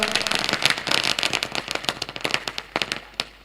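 Firecrackers burst in a dense, loud crackling string during a guest felicitation at a night sports tournament, with sharp pops thinning into sparser bangs toward the end.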